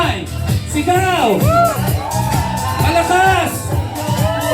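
A party crowd at a 60th birthday celebration shouts and whoops on cue while a host calls out over a microphone, the voices loud and close throughout.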